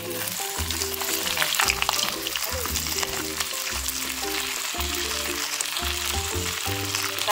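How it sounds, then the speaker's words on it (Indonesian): Ikan bilis (anchovies) fry in hot oil for nasi lemak sambal bilis. A loud, crackling sizzle runs throughout with bursts of spattering, and metallic stirring knocks recur in an uneven rhythm close by. "kita boleh masukkan ikan bilis kita untuk digoreng"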